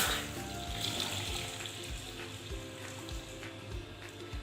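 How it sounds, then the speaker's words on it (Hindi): Milk pours into a pan for bread kheer, a steady liquid rush that runs the whole time at moderate loudness with no voices. "उसमें डालेंगे हम अपना दूध"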